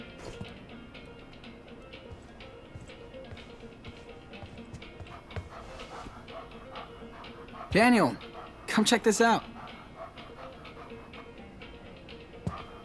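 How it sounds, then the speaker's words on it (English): Puppy in the game Life is Strange 2 gives a short burst of whimpering yips followed by a second cluster of higher whines and small barks, heard over low background ambience and quiet talk. "It's a puppy!"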